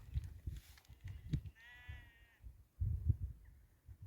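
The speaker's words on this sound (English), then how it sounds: "A lot of sheep here, as you can hear" Sheep bleat on a Pennine Way hill farm, one clear wavering bleat and a fainter later call over soft footsteps and outdoor rustle, fairly distant and quiet.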